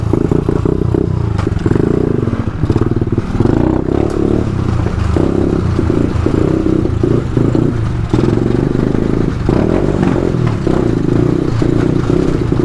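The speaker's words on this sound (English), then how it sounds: "my bike sounds dope" A motorbike engine runs loud and close throughout, a rough, rattling drone with clattering bursts and shifting revs, and no talking over it.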